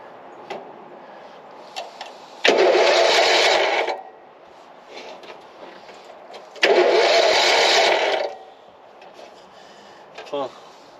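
Go-kart engine cranking and catching in two loud bursts of several seconds each, with quieter pauses between and a voice speaking.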